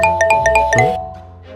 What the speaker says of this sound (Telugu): ఇన్ని నోటిఫికేషన్స్ ఏంటి హ్మ్?